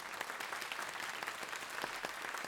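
Audience clapping at the close of a talk on multiple sclerosis, quiet and somewhat distant, a loose patter of individual claps with no voices over it.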